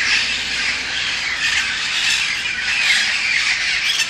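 A flock of birds squawks loudly in the trees just outside, in Pasadena, California, in December: a dense, unbroken, shrill chorus that stays close and intense throughout, with no talking.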